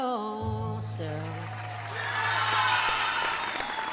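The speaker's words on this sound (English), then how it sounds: "please give a huge round of applause to Johnny" Audience applause after a singer's performance on a vocal competition show, a broad wash of clapping that swells toward the end over a sustained musical tone fading in the background.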